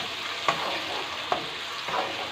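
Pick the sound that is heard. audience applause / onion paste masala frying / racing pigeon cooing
onion paste masala frying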